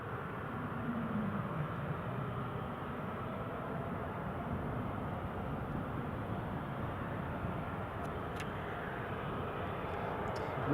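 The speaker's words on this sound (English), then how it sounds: "The Jet2 that returned to stand is now just about to line up and depart." A Jet2 airliner at Newcastle International Airport, back from stand and about to line up and depart, with its engines giving a steady, broad rumble that holds level and sustained throughout, somewhat distant and with no talk.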